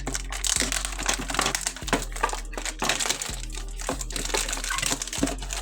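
Cardboard and plastic packaging of a Beyblade X ShelterDrake random booster box crinkles and rustles steadily as the parts are pulled out, with a few sharper tearing crackles, close and moderately loud, with no voices.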